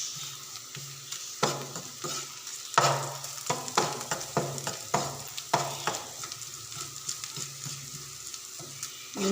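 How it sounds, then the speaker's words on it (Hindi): Dry spices for a samosa filling fry and get stirred together in a pan. Soft, continuous sizzling carries rhythmic scraping and tapping strokes of the spoon, fairly close and moderately quiet. "अब हम इसमें बाकी के सारे खुश्क मसाले जो रखे हुए हैं वो डाल देंगे।"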